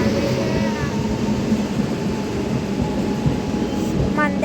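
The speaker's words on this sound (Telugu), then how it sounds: "ఇప్పుడైతే మన ట్రైన్ వచ్చేస్తుంది." Guntur to Kacheguda Express pulling into a station, a steady loud rumble of the train filling the whole clip, with faint squeals near the end.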